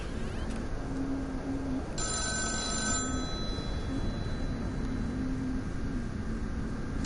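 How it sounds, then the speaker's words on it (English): A telephone rings insistently in The Town of Light, a steady electronic bell trilling in repeated bursts over a constant low background hum, with no voices. "if you can even hear me over this incessant phone ringing"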